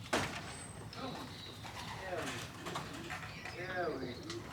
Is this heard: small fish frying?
no